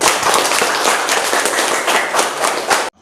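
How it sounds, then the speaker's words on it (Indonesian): Pupils in a classroom clap together in a short, lively burst of applause that stops abruptly after about three seconds. "Coba nak kita kasih tepuk tangan."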